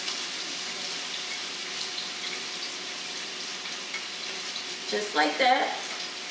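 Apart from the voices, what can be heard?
onions and mushrooms sauteing in olive oil in a pan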